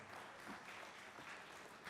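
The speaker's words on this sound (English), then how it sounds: "Please give a round of applause for Mr." Faint, steady round of applause from a conference audience welcoming a bank chief executive as he takes the stage at a mergers and acquisitions event, an even wash of clapping lasting the full two seconds.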